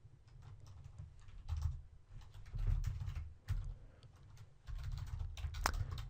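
Typing on a computer keyboard: steady, quiet clicking and tapping of keys in irregular bursts with brief pauses, close by and without talk.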